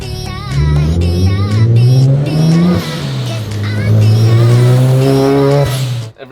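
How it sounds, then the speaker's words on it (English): A turbocharged car engine accelerates hard and loud, pitch climbing through gears with a whirring turbo spool over the rising note, then cutting off abruptly. "The turbo is definitely spooling quicker"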